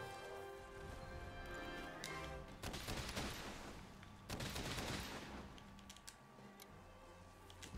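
Heavy bowgun spread ammo in Monster Hunter World fires in bursts of rapid, crackling blasts over game music and impact sounds, fairly loud and clustered in a few volleys.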